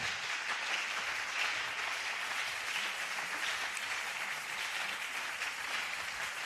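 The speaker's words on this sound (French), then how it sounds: "Acclamez-les d'abord fortement" A church congregation bursts into strong, sustained applause, a dense steady wash of many hands clapping at moderate distance, continuous throughout with no clear voices above it.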